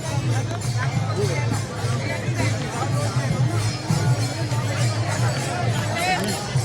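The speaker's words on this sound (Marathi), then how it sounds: "खूप प्रचंड गर्दी आहे" A large, dense crowd at the Alandi to Pune wari pilgrimage procession, a steady roar of babble and chatter filling the scene throughout with no single voice standing out.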